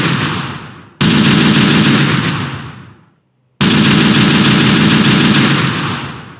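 Gunfire in Minecraft with a Holi mod: two long, loud bursts of rapid automatic fire, each fading slightly, separated by a brief silent gap.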